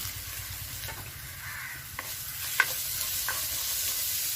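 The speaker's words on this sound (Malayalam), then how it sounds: "ഇനി നമുക്ക് ഇതിലേക്ക് ചെറിയ ഉള്ളി ചതച്ച് ഇട്ട് കൊടുക്കാം" Crushed shallots frying in hot oil in a pan as part of a beef dish: a steady, close sizzling hiss runs throughout, with a few light clicks and scrapes of stirring.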